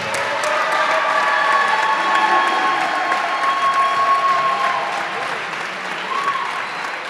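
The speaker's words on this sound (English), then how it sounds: "Ladies and gentlemen, how about a big round of applause for Quentin Davis and Alex Witt." A crowd at a college men's basketball game claps steadily, with some cheering mixed into the sustained applause that tapers slightly toward the end.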